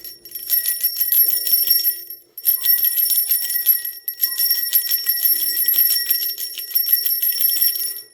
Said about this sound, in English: I'm going to do a bell cleanse if you have on like earbuds, if you're sensitive.